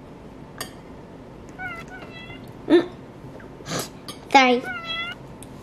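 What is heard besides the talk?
cat meowing in Roblox Livetopia video game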